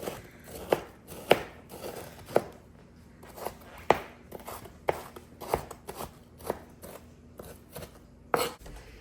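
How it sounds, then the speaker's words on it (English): Sharp, uneven knife strikes on a cutting board as bell peppers and onions are chopped fine, about a dozen close, crisp thuds spread over several seconds with quiet pauses between. "I'm just gonna run my knife through all of these peppers and onions, try to make it kind of fine"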